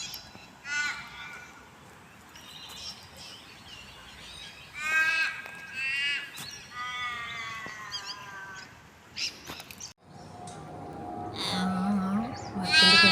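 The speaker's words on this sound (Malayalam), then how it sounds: "കാക്കയുടെ കരച്ചിൽ കേൾക്കുമ്പോൾ എനിക്ക് തോന്നുന്നു ഏതോ ഒരു കുട്ടി കരയാണ്." Crows in Australia cawing in drawn-out, wailing calls that sound like a crying child, several separate bursts spread across the clip at moderate distance, with some quieter background sound between them.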